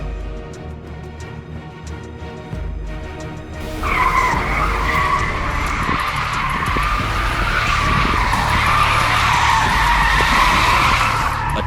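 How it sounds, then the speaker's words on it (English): A car burns its tires in a stunt on a public road: low engine rumble at first, then a loud, sustained tire squeal and skid that holds on until the end. "Burning tires won't get you any faster."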